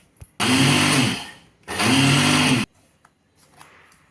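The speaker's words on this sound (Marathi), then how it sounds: "आणि मिक्सरमध्ये फिरवून घेऊया" A kitchen mixer grinder whirring through sugar and milk powder in two loud, close bursts of roughly a second each, separated by a short pause, followed by faint clatter as it settles.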